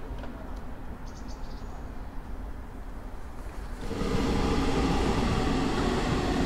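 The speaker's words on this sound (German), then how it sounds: "Hier begegnet er einem Ringbahnzug der neuen Baureihe 484, welche zusammen mit der Baureihe 483 die alten Züge ablöst." Berlin S-Bahn trains, including a new class 484 Ring line unit, rumble past in a steady broadband roar that swells sharply as a second train passes at close range.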